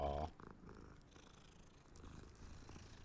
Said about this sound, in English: That's a cute little putty tat. Though that meow is definitely a little bit weird.